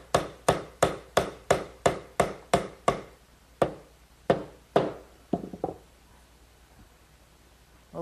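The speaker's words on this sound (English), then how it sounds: "Maybe just a little gentle persuasion from a rubber mallet." A rubber mallet taps a wooden dovetail joint into its slot on a candle stand: a brisk run of about ten evenly spaced close knocks, then several slower, spaced blows trailing off into quiet.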